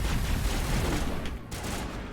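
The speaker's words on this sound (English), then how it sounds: "Are you guys doing suppressive fire?" Sustained suppressive gunfire in the Mass Effect video game, a dense, continuous rattle of rapid shots and booms filling the whole moment.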